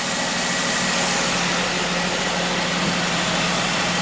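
A 2017 Jeep Wrangler idles steadily after a rebuild, a smooth continuous engine hum with no misses or roughness, alone and fairly close throughout.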